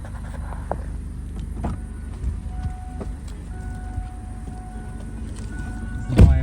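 A Kia Cerato 1.6 running on gas and petrol drives along, its steady low engine and road rumble continuing throughout, with a sharp knock or bump near the end.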